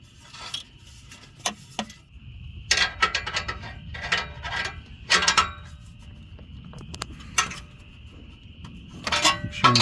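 Rear oxygen sensor being tightened by hand with a wrench on a Jeep Grand Cherokee: a series of sharp metallic clinks, clanks and ratcheting creaks in irregular bursts, close up, with no talking.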